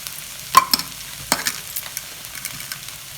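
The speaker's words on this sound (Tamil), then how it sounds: "இப்போ மசிச்சு வச்ச உருளைக்கிழங்கு போட்டுக்கலாம்" Mashed potato being stirred into sautéed onions in a pan, a few sharp scraping and tapping strokes against a quiet low sizzle, close and without speech.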